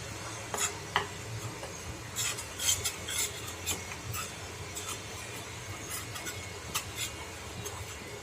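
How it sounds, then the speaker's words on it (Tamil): Store-bought rice flour is dry-roasted in a pan, a utensil scraping and stirring it in repeated uneven strokes with light scratchy clinks, close and fairly quiet, with no talking. "இதே இப்போ லைட்டாக வறுத்து எடுத்துக்கலாம்."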